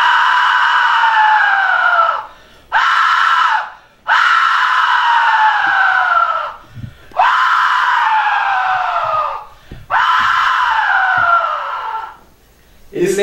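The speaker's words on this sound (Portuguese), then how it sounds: "Isso é um apito azteca." A shrill, scream-like Aztec skull whistle blasts in four long, descending wails, each separated by brief pauses, loud and piercing.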